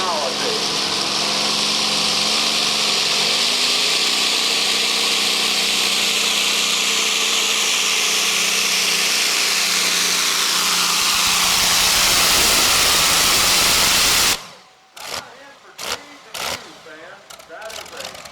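A 1,710-cubic-inch Allison twin-cam V12 aircraft engine from 1940 roars loud and steady through a tractor pull exhibition run, holding a dense sustained drone before cutting off abruptly, followed by a few sharp scattered bursts.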